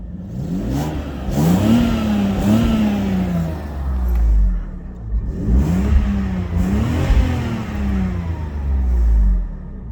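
A BMW 850 coupe engine runs at idle, a close, low steady hum that swells and settles in two slow surges.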